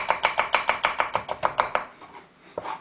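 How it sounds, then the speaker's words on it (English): A knife thinly slicing leeks on a cutting board, a quick run of about a dozen evenly spaced crisp chops, then a short pause and one more cut. "Leeks you want to cut nice and thin so that they can cook through."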